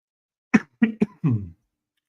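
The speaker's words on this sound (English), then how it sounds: "Man, I can't stop coughing." A man coughs four times in a quick, close series of short bursts, the last one longer and rougher, with silence around them.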